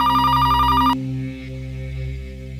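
A phone rings with a steady electronic trill that cuts off after about a second, over a sustained low musical drone.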